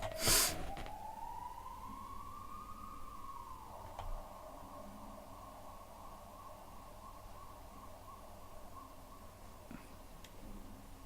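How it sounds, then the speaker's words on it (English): A siren sweeps upward and then holds a steady wailing tone, moderately loud and a little distant, over a soft hiss of background noise, with a few faint clicks. "Ambulance noises."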